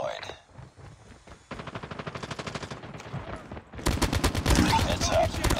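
An automated sentry gun in Call of Duty fires rapid, sustained bursts that grow louder and denser partway through, a continuous mechanical rattle of gunfire with game voice callouts mixed in.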